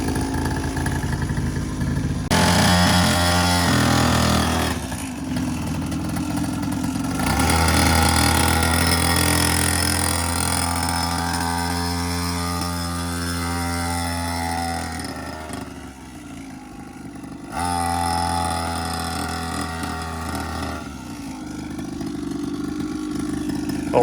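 A two-stroke quad bike engine running nearby, a steady buzzy idle that swells into louder revs, drops away briefly, then returns at a strong hum.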